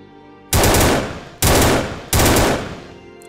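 Three loud bursts of automatic gunfire ring out from a Unity first-person shooter game, each a dense rapid volley that cuts off sharply and leaves a fading tail, spaced about a second apart and heard without any speech.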